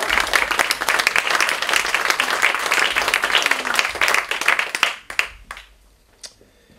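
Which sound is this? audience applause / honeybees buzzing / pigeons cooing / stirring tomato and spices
audience applause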